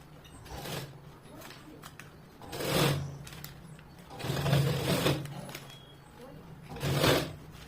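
An electric sewing machine stitches contrast piping onto the lower edge of a long-sleeved blouse, running in several separate bursts of whirring with quiet pauses between them.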